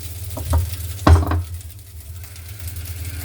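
Hong Kong fried rice is stirred in a pan over a gas flame, with a few loud, close scrapes and clatters of the utensil against the pan sitting on top of a soft, steady sizzle.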